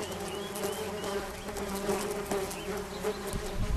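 Honey bees swarm around the frames of an open hive, a dense, steady buzzing drone that fills the whole stretch, close and continuous, with no talk over it.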